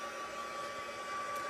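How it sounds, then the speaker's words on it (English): A heat tool blows steadily to dry alcohol ink marbling on a 5-by-7 card. The even whirring hum holds close and loud for the whole stretch, with no speech. "I'm going to have to use my heat tool to finish drying it"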